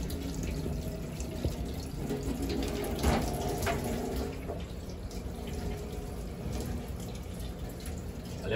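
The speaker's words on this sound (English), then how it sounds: "I'm going to fast wash to wash out all the darkness of the meat." Tap water runs steadily into a sink while rabbit meat is washed, with faint splashes and handling noises, fairly quiet and close, without talk.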